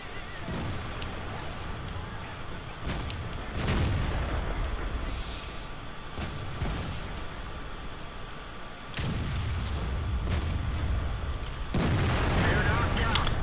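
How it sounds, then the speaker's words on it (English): Tank cannon shots in a World of Tanks-style game with a T95, several sharp booms spaced irregularly over steady engine rumble, the loudest blasts near the middle and end, with quiet voices talking faintly in the background. "I did just shoot that tank from underneath your tank"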